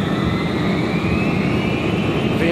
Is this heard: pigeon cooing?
no